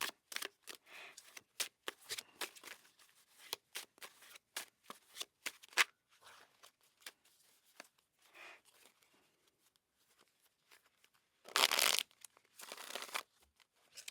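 A tarot card deck is shuffled in bursts of quick riffling and soft slapping cards, intermittent and close, with a louder sustained riffle near the end and quiet pauses between.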